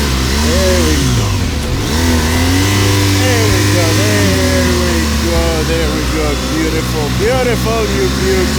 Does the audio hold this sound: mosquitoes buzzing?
no